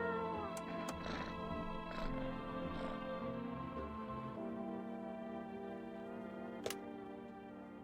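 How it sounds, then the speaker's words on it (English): A cat in the video game No I'm Not a Human meows a few times early on, soft and a little distant, over a quiet hum of game music with a sharp click near the end. "Where's a cat? Let's pet that cat."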